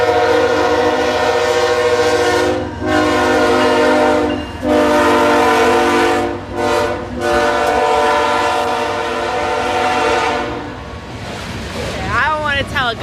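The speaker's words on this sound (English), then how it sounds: "I don't want to tell a guy how to drive his train, but that honking was a little excessive." A passing train sounds its horn loudly and close by in long sustained blasts with short breaks, rumbling steadily throughout, while people talk briefly.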